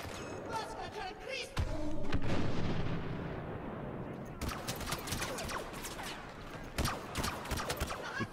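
Blaster pistol fire and battle din in the Star Wars Battlefront Outer Rim game, with repeated sharp shots, a heavy rumbling blast early on and dense overlapping gunfire throughout.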